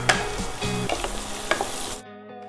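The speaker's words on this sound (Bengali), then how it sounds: "আমার সব সবজিগুলো ভাজা হয়ে গেছে" Peas, carrots and onion stir-fry in a pan for Bengali-style fried rice, a lively sizzle broken by repeated scraping stirs and clinks of the spatula, cutting off abruptly near the end with no talk over it.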